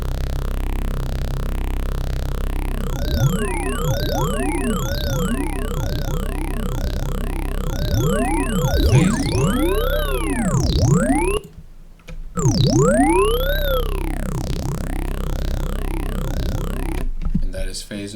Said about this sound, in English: And that is phaser.